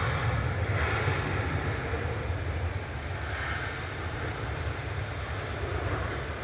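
An Etihad Boeing 787-10 Dreamliner arrives at Manchester Airport from Abu Dhabi, its engines producing a moderate, steady distant roar with low rumble and some wind noise, slightly swelling and easing.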